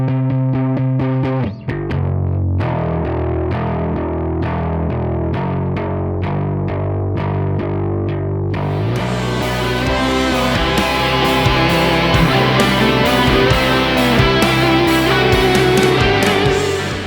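Distorted electric guitar played through a Kemper Matchless Chieftain amp profile, opening with sparse picked chords before a thick, loud strummed rock part with drums takes over.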